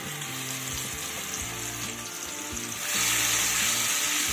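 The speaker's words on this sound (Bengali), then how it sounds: "এবার এই মশলাটাকে তেলের মধ্যে একটু কষিয়ে নিতে হবে" Spice paste sizzling steadily in hot oil as it is fried in a home kitchen while cooking small hilsa, with a continuous loud crackling hiss that grows louder partway through.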